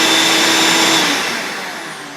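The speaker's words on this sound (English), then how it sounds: "I also have this remote control switch that turns the vacuum on and off." A shop vacuum on a separator cart roars loud and close with a broad, steady whoosh that eases off slightly toward the end.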